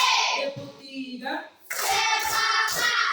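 A class claps hands together in a counted classroom rhythm, a few sharp claps in a row, close by and alongside children's voices.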